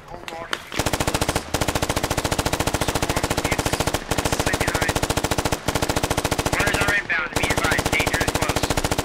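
Sustained automatic machine-gun fire in the video game Squad, rapid evenly spaced loud shots in long bursts with brief pauses, with voices faintly underneath.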